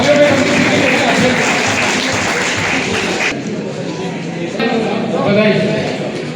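Loud applause from the audience at an Engineer's Day function honoring Sir Mokshagundam Visvesvaraya. Heavy, dense clapping runs for about three seconds, then drops away to quieter room noise with voices.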